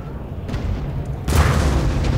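Booming cannon and musket fire rolls through a star fort battle in a video game, a continuous rumble of distant blasts that swells into a louder, denser barrage partway through.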